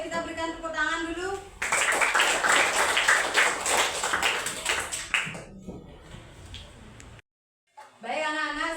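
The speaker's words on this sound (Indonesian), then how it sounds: "Ayo kita berikan tepuk tangan dulu." Schoolchildren in a primary school classroom break into loud, sustained group clapping for about four seconds, then it fades and a voice is heard between speech at the start and end.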